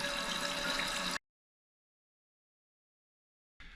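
Water rushes steadily from a toilet fill valve, a broad hissing flow that cuts off abruptly after about a second, then silence before the rush briefly resumes at the end.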